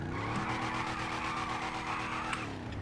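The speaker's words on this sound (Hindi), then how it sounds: "इस बाइक का साउंड सुन के डर जाओगे।" Modified Harley-Davidson-style motorbike engine in GTA 5, a steady rumbling idle with a strong pulsing low throb and rich harmonics, close and continuous with no talk.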